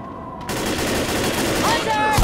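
Rapid bursts of gunfire in the zombie shooter Left 4 Dead, a loud, dense stream of shots running continuously and close up for the whole stretch, with game noise layered in.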